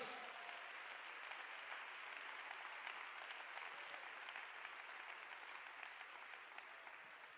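Church congregation applauding together for the Lord, a steady, even wash of clapping from many hands that holds level throughout without pause, no voices standing out.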